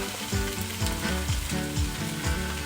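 Salmon pieces spread out in a hot pan sizzle and crackle steadily, a close, dense frying hiss with faint rhythmic scraping pulses as the fish crisps, no voices present.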